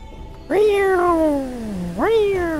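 A cat in the video game Fallout 3 lets out two loud, close meows, a long falling one followed by a shorter rising call.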